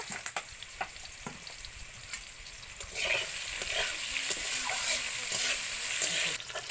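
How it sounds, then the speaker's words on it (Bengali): Raw mango pieces sizzle and crackle in a hot pan, the frying growing louder partway through, with occasional taps of a spatula. "এবার আম ভাজা হয়ে গেছে"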